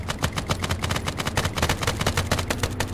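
Rapid bursts of gunfire ring out while shooting at zombies in a video game, a dense, loud, rhythmic rattle of shots that continues without pause.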